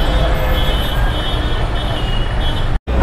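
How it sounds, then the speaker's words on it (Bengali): Dense street traffic on busy Dharmatala in Kolkata makes a loud, constant wash of engines and road noise, with heavy vehicles close by and a sudden brief cut near the end. "এই ব্যস্ততম ধর্মতলা রাস্তা।"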